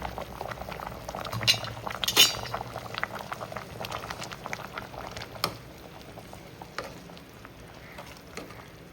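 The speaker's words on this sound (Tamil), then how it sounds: "சாம்பார் கொச்சிடுது" Keerai sambar made with drumstick leaves and tamarind simmering in a pot, a soft continuous bubbling under occasional sharp clinks of a metal spoon against the vessel, close and fairly quiet, no voices.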